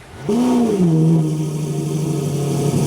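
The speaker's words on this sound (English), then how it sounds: "This thing has like the loudest cold start I've ever heard" A Lamborghini Revuelto fitted with a Gintani exhaust fires up from cold, a loud sudden start swelling into a high rev before settling into a steady, droning idle close by.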